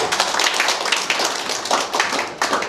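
Audience clapping at a hybrid book discussion event, brisk and dense hand claps from a modest group, close and continuous for a few seconds.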